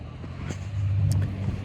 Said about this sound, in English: see a loud truck just went by